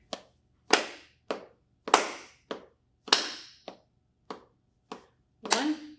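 About ten sharp hand claps ring out in a slow, irregular rhythm for a beginner flute lesson counting half notes, each crisp and close with a short room echo, in a quiet room with no talk.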